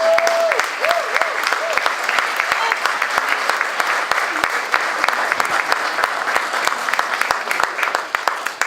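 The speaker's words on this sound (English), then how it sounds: "Let's give all of them a round of applause." An audience at a Diplomat Tea gathering breaks into loud, dense applause that carries on steadily, with a brief tonal whistle near the start.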